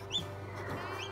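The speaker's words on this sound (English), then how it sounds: "when one pips and hatches and starts chirping like crazy like this" Newly hatched chicks in an incubator chirp in two short, high peeps, one near the start and one near the end, over a steady incubator hum.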